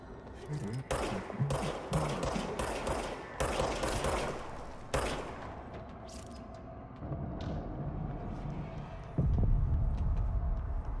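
Rapid bursts of gunfire from the service weapon in the video game Control, several loud close volleys in the first half, then sparser shots over a low throbbing hum and a deep boom near the end.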